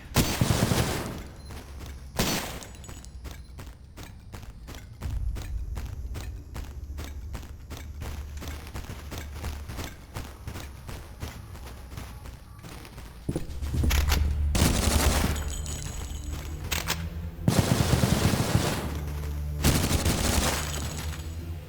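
Assault rifle and shotgun fire in the video game Cultic: heavy booming blasts alternate with long stretches of rapid automatic bursts, loud and close throughout.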